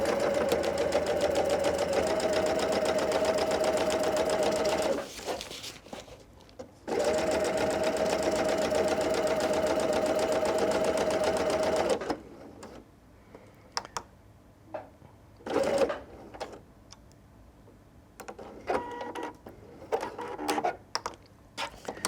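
A sewing machine runs in two long steady bursts while stitching twill tape onto a drawstring backpack, then stops, leaving scattered handling clicks and rustles of fabric nearby.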